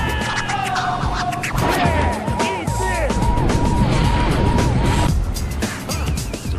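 Video game car racing through New York City streets and park, engine roar steady and loud with repeated crashes, scrapes and impacts throughout, game music tones in the background.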